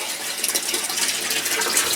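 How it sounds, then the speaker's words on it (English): Water from an aquaponic grow bed drains through a bell siphon into a sump tank, a steady rushing gush that stays close and loud with slight surges throughout, and no voices. "it's going to create a vacuum inside this bell that will draw the rest of the water down and again into the"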